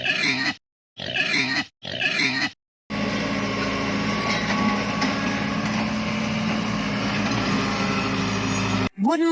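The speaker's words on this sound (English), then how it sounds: "Red tractor tries, it pulls with might." A red tractor engine strains hard as it pulls, a steady loud rumbling drone that runs for several seconds after a few short voiced sounds.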